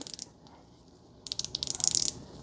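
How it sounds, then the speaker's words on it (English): Clicking of a ratchet wrench mechanism from a compact socket set after a year of heavy use, heard as a faint short burst, a pause, then a quicker run of about a dozen crisp, close ticks. "After 1 year of heavy use, this ratchet, the ratcheting mechanism,"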